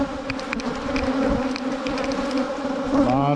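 Honey bees drone loudly and continuously from an opened hive during colony splitting, a dense close buzz with no speech over it.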